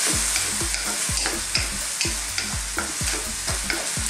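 Noodles with roasted shrimp, seasoned with red chili, salt and black pepper, are stir-fried in a hot pan: rhythmic scraping and tossing strokes roughly twice a second over a continuous loud sizzle.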